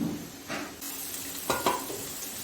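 A small onion dropped into two tablespoons of hot oil in a pan gives a quiet, brief sizzle, broken by a few sharp stirring clinks.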